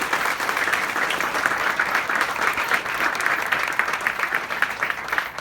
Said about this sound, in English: Let's start with a great big round of applause and congratulations